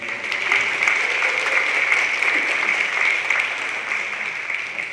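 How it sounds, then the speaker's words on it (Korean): An audience at a Jeju peace forum applauds to welcome a speaker, a steady, even wash of many hands clapping at once, moderately loud and continuous with no talking over it. "박수 환영합니다."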